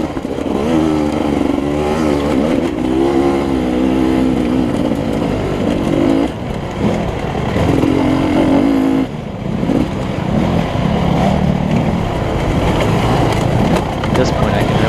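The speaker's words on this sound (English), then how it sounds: "I can really hear a couple of bikes behind me." Dirt bikes racing through rocky, hilly woods on a fast-flowing trail, engines droning and revving continuously up close with pitch rising and falling, other bikes approaching from behind, with talk over parts of it.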